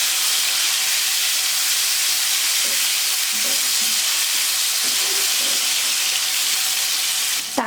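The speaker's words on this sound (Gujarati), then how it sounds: "ટામેટા ઉમેરી સાંતળી લઈએ।" Chopped tomatoes sautéing in oil over a medium gas flame for Gujarati stuffed brinjal curry, a constant loud hissing sizzle with a few soft stirring knocks and no talking.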